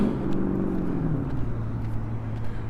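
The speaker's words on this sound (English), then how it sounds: "I have little patience for cars that sound like that." A loud car roars past on a city street in a residential neighbourhood, its engine drone rising and then dropping in pitch as it goes by, steady and fairly close.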